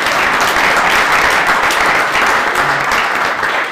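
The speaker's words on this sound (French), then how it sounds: "On peut l'applaudir" An audience at a town honouring ceremony gives loud, dense, sustained applause, even and unbroken across the clip.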